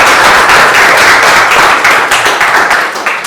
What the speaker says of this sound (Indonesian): silakan beri aplaus tangan dulu